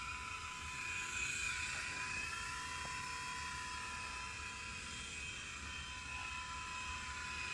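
A Blade mCX radio-controlled toy helicopter flies outdoors in light wind, giving a steady, continuous high-pitched whirring of small rotors and motor that holds at an even level throughout.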